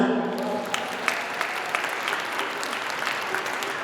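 A gala audience applauds the DJ with steady, dense clapping that fills the room throughout, a few sharper claps standing out near the front.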